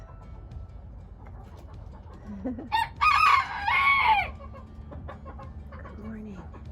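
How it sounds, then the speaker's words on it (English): A rooster crows loudly, close at hand, in a creekside chicken yard, one long strained call rising over low clucking from the hens, and a person briefly says a word. "let's check out and see if the chickens are awake."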